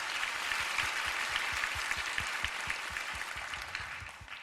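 Audience applause at a church worship service, dense steady clapping from a crowd with a faint rhythmic beat underneath, moderately loud and continuous, gradually easing toward the end.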